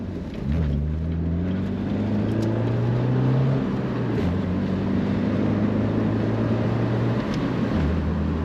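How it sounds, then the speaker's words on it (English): A 2007 Pontiac Solstice convertible with a 5-speed manual, driving with the top down, its steady engine drone shifting pitch as the revs rise and fall, loud and continuous throughout. "Today we're driving a 2007 Pontiac Solstice."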